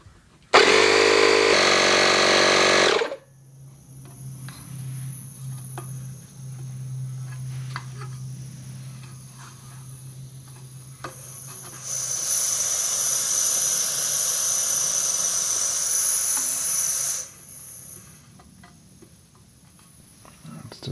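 Compressed air hissing from a leaking air regulator, a steady broadband hiss that swells louder midway for several seconds before easing off, following a short loud burst of machinery noise at the start and a faint hum beneath.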